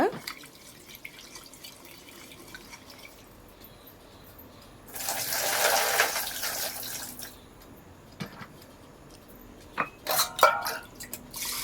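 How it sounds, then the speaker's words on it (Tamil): Water gushes briefly into a pot of lentils being washed, then drips and splashes follow, with a few clinks of the pot amid a quiet background. "இது எல்லாத்தையும் ஒரு தண்ணி ஊற்றி கழுவிக்கோங்க"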